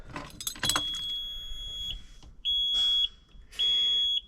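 Dashboard of a truck with a rebuilt CAT C13 engine at startup: a couple of sharp clicks, then repeated steady electronic tones pulsing on and off, close and fairly quiet.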